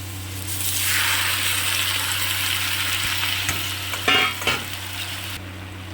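Malabar spinach goes into a pan of lightly sautéed potatoes, bringing a sudden rush of sizzling frying that holds steady, with a brief utensil clatter and stirring near the end.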